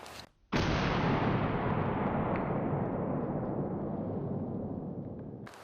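A single rifle shot fired while hunting Dagestan tur on steep mountain terrain in Azerbaijan: a sharp, very loud blast followed by a long rolling echo that fades slowly over several seconds.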